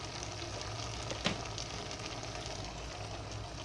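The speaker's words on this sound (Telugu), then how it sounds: "ఇంకా కొంచెం ఉడికిన తర్వాత చిక్కుడుకాయలు ఫ్రై చేసేసుకున్నామండి." Broad beans (chikkudukaya) fry in a pan with a steady, fairly quiet sizzle throughout, broken by one brief tap near the start.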